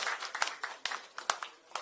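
A small group claps at a Korean political party joint meeting and election rally in South Chungcheong, with brief, fairly faint applause that is uneven and thin, as from only a few people.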